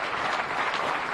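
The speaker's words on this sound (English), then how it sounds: "I'd like you to give your parents, your families a round of applause and thank them as well" Applause from repatriated students and their families at a gathering addressed by the president, a brief, fairly faint and even patter of clapping heard at a distance.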